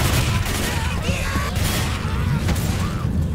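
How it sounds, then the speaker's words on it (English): Gunfire in the zombie shooter Left 4 Dead 2: a loud, sustained fusillade of rapid shots and booms layered with game noise, continuing without pause. "Stop shooting the robot, people."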